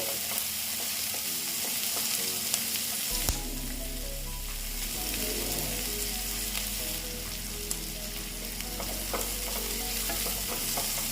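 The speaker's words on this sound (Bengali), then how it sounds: "এবার আমি টমেটোটা দিয়ে আর একটু ভেজে নিচ্ছি" Tomatoes frying with ginger, garlic and onion in a pan, a continuous crackling sizzle that jumps louder as the tomato goes in, with occasional stirring scrapes.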